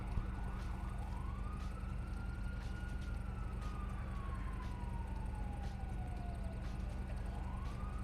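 A wailing police siren in GTA 5 rises and falls slowly over a constant low engine rumble, fairly faint and steady throughout.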